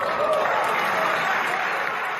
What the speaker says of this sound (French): applaudissements dans l'Assemblée